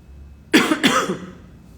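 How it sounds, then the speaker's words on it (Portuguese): Two quick, close coughs in a row, sharp and throaty, breaking a near-silent background. "eu tô com uma tossinha chata"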